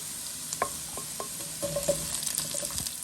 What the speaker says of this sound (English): I will add in my garlic. And we want to fry that a little bit in the oil.